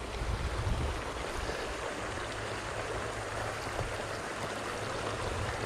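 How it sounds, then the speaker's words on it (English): Flowing water of a trout stream, a steady broadband rush heard close and continuous, with some low wind rumble at the microphone and no voices. "Maybe a bit of moving water is what they're after."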